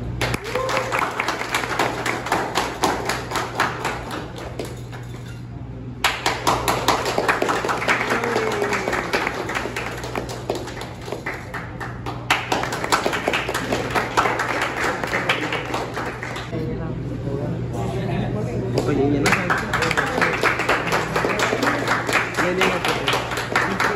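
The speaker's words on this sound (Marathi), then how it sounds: "भाई जेव्हा मेडल घालतो टाळ्या वाजवतो" Scattered hand clapping at a powerlifting competition medal ceremony in Amravati, continuing steadily under a constant hum with voices talking and calling out over it.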